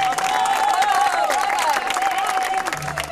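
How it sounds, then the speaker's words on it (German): Spontaneous applause and cheering from a crowd greet a soprano leaving the Arena di Verona after an Aida performance, mixed with a sustained musical tone and clapping throughout. "Spontaner Applaus nach der Vorstellung, als sie von der Arena zum Abendessen geht."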